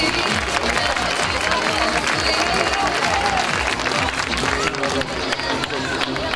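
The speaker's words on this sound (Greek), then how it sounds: "Καμαρώστε τα παιδιά, ένα θερμό χειροκρότημα." A large audience at a gymnastics display claps warmly and continuously, a dense, even wash of applause with crowd murmur that holds for several seconds.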